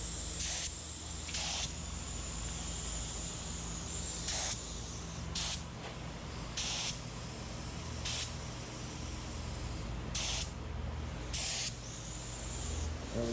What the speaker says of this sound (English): See how the gun is spraying?